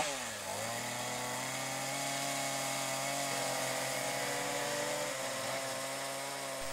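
Chainsaw used for wood carving running steadily at high speed, a continuous buzzing whine with a slight dip near the start and small shifts in pitch, fairly distant and alone.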